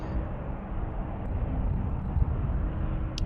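A departing airplane at Amsterdam Schiphol on runway 36L, a steady low broadband engine roar at a distance that swells slightly, with no talking.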